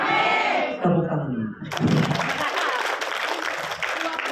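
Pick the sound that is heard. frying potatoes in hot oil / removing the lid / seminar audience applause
seminar audience applause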